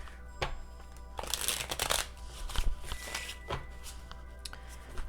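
Tarot cards being shuffled and drawn: close papery riffles and slides come in bursts with soft taps between them, quiet and near.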